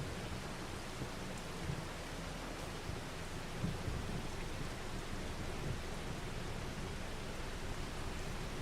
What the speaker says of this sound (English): It does rain an awful lot on this map.